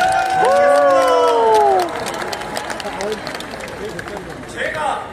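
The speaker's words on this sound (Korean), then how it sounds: "다시 한번 큰 박수로" A crowd at a Korean political party gathering claps and cheers loudly, fading into sustained applause while someone speaks over it with a microphone.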